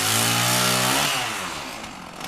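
Chainsaw engine roaring loud and steady, standing in for human snoring, its pitch and volume easing slightly toward the end of a short burst with no voices.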